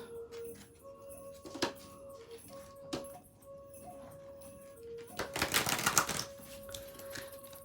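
Tarot cards riffle and snap together in a quick burst near the end, after a few sharp taps and faint clicks in a quiet room.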